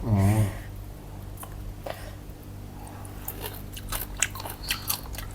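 Pickled raw shrimp (kung dong) are eaten with Chinese kale. A brief voice at the start gives way to close, crunchy bites and wet chewing.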